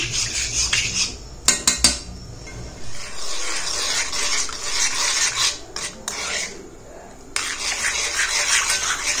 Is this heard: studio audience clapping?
no